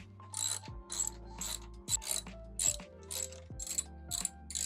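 A ratchet loosening two 12 mm bolts on the OEM rear fender of a 2024 Honda CBR650R motorcycle, with close, regular clicking strokes, each followed by a short ringing tone.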